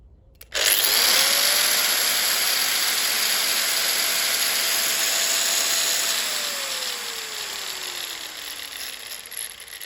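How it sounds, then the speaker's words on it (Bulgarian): An angle grinder with a freshly replaced disc whirs up sharply and runs at a steady high-pitched whine, loud and close, then gradually winds down toward the end. "Сега поставям предпазните очила и ще включа шлайфа, за да тествам дали всичко е наред."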